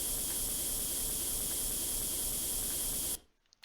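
Spray gun painting a KV-1 tank in Tank Mechanic Simulator, a loud continuous hissing spray that holds steady for about three seconds, then cuts off abruptly into near silence with a faint click.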